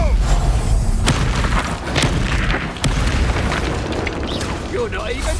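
An Expulso spell explosion in Hogwarts Legacy, loud booming bursts and sharp thumps recurring across a few seconds during a duel, with a voice talking over the din.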